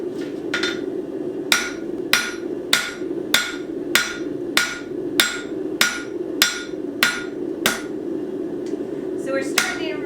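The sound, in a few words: hammer forging hot steel into a butter knife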